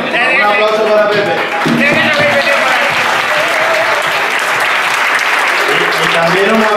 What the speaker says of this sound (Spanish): Un aplauso para Pepe.